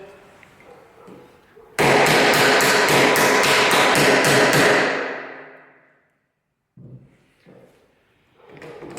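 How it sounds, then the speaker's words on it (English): Loud, rapid hammer blows ring out for about three seconds as a door hinge is struck to mark its outline on the door edge, followed by a short pause and quieter handling noise. "we're going to beat down on this with the hammer"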